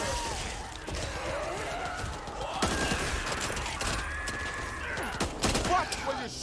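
Dense gunfire in the co-op zombie shooter Back 4 Blood, rapid overlapping shots and clatter running steadily throughout at close range, with players shouting over the din.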